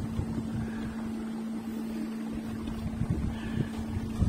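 A small electric motor drives a boat, giving off a steady, even hum over constant water and wind noise. It runs unbroken for the whole stretch with no one talking.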